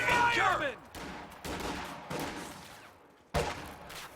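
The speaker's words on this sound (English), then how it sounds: "They're under mortar fire" Mortar fire in the Company of Heroes 2 strategy game lands in sharp separate impacts, several booming hits a second or so apart, with a whistling descent at the start and game battle noise between them.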